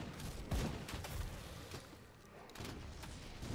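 Explosions in the action role-playing game Grim Dawn, a rapid cluster of booms and blasts from a demolitionist character, fairly quiet and rolling together into a rumbling barrage.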